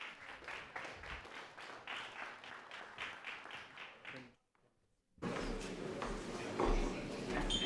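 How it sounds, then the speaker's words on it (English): Audience applause at a panel discussion on governance and civil society in Ukraine, welcoming a speaker; steady clapping fades, drops to a short silence, then resumes louder and fuller. "So join me for a warm welcoming applause to Christine Tötzke."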